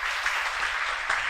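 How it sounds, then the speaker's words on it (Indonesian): Brief applause from a seated audience at an Indonesian child-nutrition event, a soft, even spatter of clapping heard from some distance for just over a second. "Ini tepuk tangan dulu dong buat Adaro ini ya."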